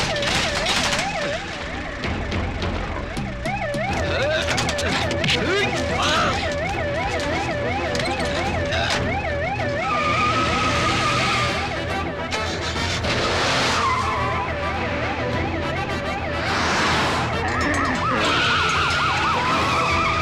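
Ambulance siren wailing loudly in repeated rising and falling sweeps, mixed with car engine noise and tyre skids in a movie chase scene.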